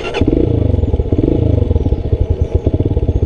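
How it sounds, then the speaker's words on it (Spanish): A motorcycle engine cranks and catches, then settles into a loud, rapid, pulsing idle close by. "voy a encender la moto"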